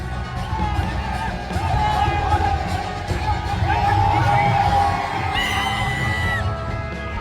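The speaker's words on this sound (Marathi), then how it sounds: "मंत्री महाजन हे रहाडीमध्ये धप्पा मारताना एकच जल्लोष कार्यकर्त्यांनी केल्याचं पाहायला मिळालं" Party workers cheer and shout during a Rangpanchami colour festival celebration in Nashik, a dense outdoor crowd roar with whoops and yells rising and falling throughout, mixed with voices.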